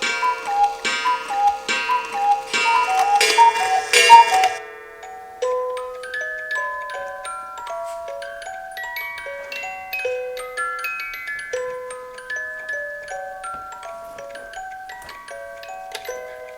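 Several cuckoo clocks sound together: a dense burst of chiming and clattering gives way to a long run of steady ticking with bright, bell-like tones. The sound is clear and close, with no voices.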